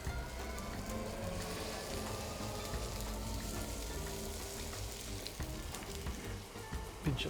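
Fennel pieces fry face down in olive oil in a pan, giving a steady, close sizzle and crackle that holds evenly throughout with no voices.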